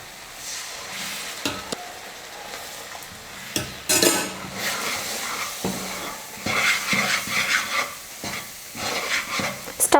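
A ladle stirs thickening halwa with sugar syrup in a pan over low heat, giving irregular scraping and knocking against the metal over a light sizzle, louder and busier toward the end.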